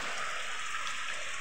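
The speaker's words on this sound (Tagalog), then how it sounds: "Naghihintay lang po ako ng hulas ng ulan." Steady rain falling outdoors, a dense even hiss of drops on surfaces, close and constant throughout with no talking.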